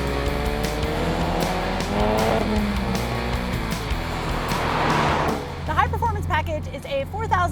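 A 2020 Ford Mustang with the high-performance package and 2.3-liter engine accelerates hard, engine roaring and shifting with tire squeal, heard close from inside, with a person talking over the engine noise.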